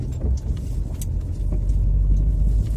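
A car on a road heard from inside, a steady low rumbling engine and road noise that swells slightly as it drives, with no talk.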